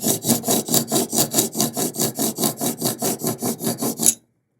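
220 grit sandpaper rubbed back and forth over the end of a classical guitar bridge: about sixteen rhythmic rasping strokes, close and loud, then abrupt silence.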